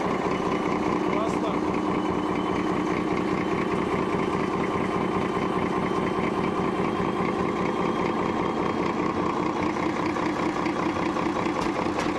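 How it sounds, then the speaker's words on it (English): A vintage ship's diesel marine engine running steadily, a loud, even mechanical chug with a fast regular pulse that holds unchanged throughout, close and continuous. "Ships' diesels like this one were valued for their durability, steady performance, and ability to run for long stretches under demanding conditions at sea."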